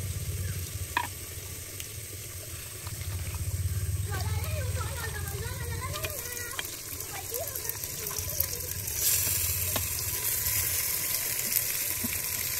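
Meat dropped into fried onions and garlic in a clay pot for a village-style handi chicken, giving a steady sizzle and frying hiss with stirring clatter, continuing under a voice.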